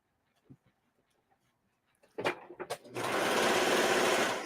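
A sewing machine stitches a shirt in one steady, loud continuous run that begins partway through, after a few faint clicks and handling taps.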